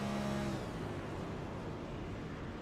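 Race car engine in the iRacing video game at Homestead-Miami Speedway, cutting out to save fuel: a continuous engine drone under broadband road and wind noise whose rising whine fades early, leaving a steady rushing roar.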